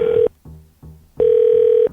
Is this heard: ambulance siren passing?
no